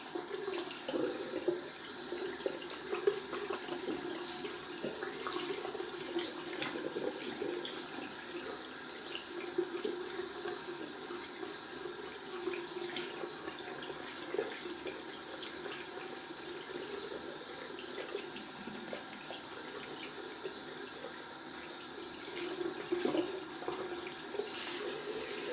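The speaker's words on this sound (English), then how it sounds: "I always use long time to rinse out my brushes to make sure I get every little piece of lather out." A tap runs continuously into a sink while shaving brushes are rinsed of lather, a steady close splashing stream with small shifts as the brushes move under the water, and no voices.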